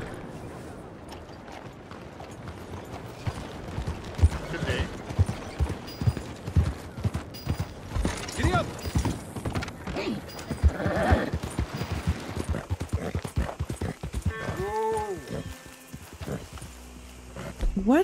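A horse in Red Dead Redemption 2 clip-clops steadily along, hooves beating a quick regular rhythm close by throughout, with a brief whinny near the end.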